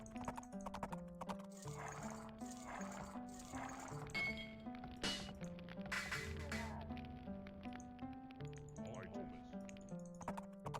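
Horses in the video game Age of Empires, with steady clip-clopping hooves and occasional neighs and whinnies over busy game sounds and music, with people talking throughout.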